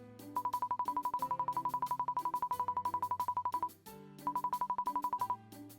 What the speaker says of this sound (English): leaving the bathroom and interacting with the gold-painted phone on the wall